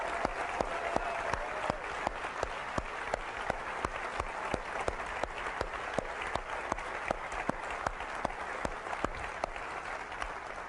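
Sustained audience applause at a 2003 Apple special event, a dense wash of clapping from a large crowd with some sharper individual claps standing out, steady and even throughout.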